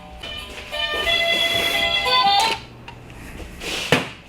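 An electronic driveway alert chimes with sustained tonal beeps over background noise, then cuts off, followed by a couple of sharp knocks.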